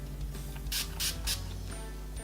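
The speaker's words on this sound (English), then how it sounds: "We can spray a bit of this spray on because it's just going to fix everything." Makeup setting spray goes off in three quick, close hissing bursts in a row, over a steady background hum.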